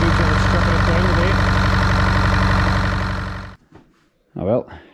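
A Zetor 6711 tractor engine idles with a steady close knocking chug, then cuts off abruptly, leaving near silence before a short burst of talk.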